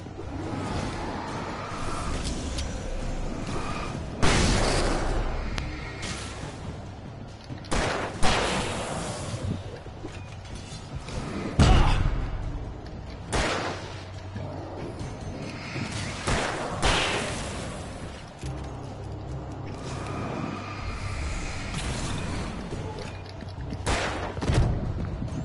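Repeated gunshots from the Alan Wake Remastered video game on PS5, with sharp bursts and rapid volleys spread throughout over a busy, continuous in-game backdrop.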